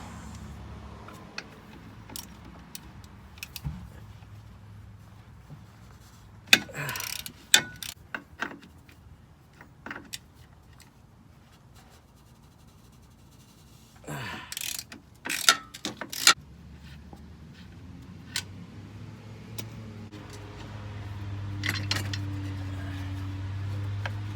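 A ratchet wrench works the bolts on a Jeep JK skid plate, rapid clicking bursts in two clusters separated by quieter pauses, close and fairly crisp.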